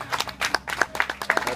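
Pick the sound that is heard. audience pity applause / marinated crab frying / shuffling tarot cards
audience pity applause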